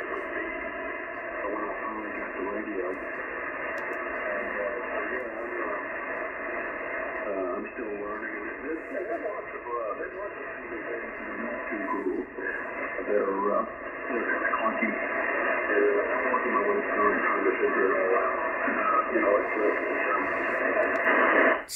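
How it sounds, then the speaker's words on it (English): Single sideband signal received on a Yaesu FTdx10 with digital noise reduction on: a band-limited, muffled voice under a steady hiss of filtered static, moderately loud and continuous throughout. "digital noise reduction on the FTdx10, is on a single sideband. Like in this case."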